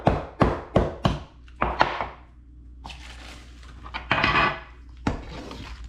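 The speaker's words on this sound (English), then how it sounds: "Peanuts chopped, peanuts go in." Roasted peanuts chopped with a knife on a wooden board for a Thai noodle salad: a quick run of about six sharp, close chops, then softer scraping and a few more chops, with no talking.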